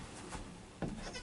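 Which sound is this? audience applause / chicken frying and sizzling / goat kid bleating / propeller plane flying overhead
goat kid bleating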